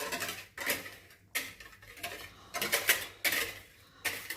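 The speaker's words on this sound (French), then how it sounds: "Je fouette bien pour bien mélanger l'ensemble." A whisk beats an egg yolk and sugar custard in a pan in quick bursts of clinking metal strokes, separated by short pauses, close and fairly clear with no talking.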